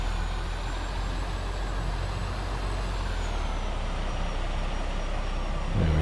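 A semi truck backs a trailer into a tight spot in American Truck Simulator, its engine idling in a steady low rumble with faint hiss, then a brief low thump near the end.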